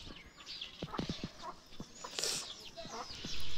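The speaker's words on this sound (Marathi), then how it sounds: "कोंबडी आणि त्यांची पिल्ले अशी मनसोक्त चिव चिव चिव करत फिरत होती" Hens and their chicks clucking and cheeping close by on a village morning, a run of short clucks followed by scattered high peeps and a little background noise.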